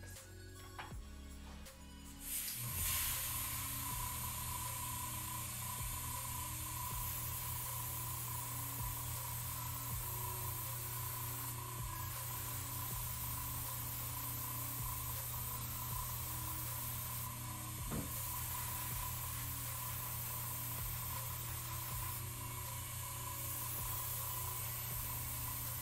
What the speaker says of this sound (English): I'm just kind of spraying some close, spraying some far away